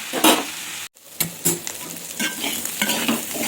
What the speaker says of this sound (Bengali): এভাবে আলু ফুলকপি ভেজে নিলাম